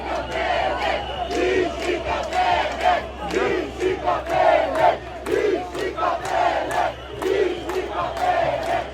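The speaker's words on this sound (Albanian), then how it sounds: "Turma është e pa kontrolluar." Large unruly crowd of protesters shouting and roaring together after a police cordon breaks, a dense, loud, continuous wall of massed voices with repeated surging yells.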